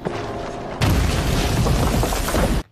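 A tank is blown apart by a sniper bullet in a film, a loud, sustained boom that erupts suddenly over a rumbling background and roars for nearly two seconds before cutting off abruptly.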